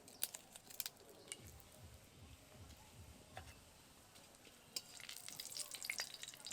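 Whole cumin seeds and a bay leaf hit hot oil for a vegetarian cauliflower korma, producing a faint, close crackling sizzle with scattered ticks and pops that grow busier toward the end.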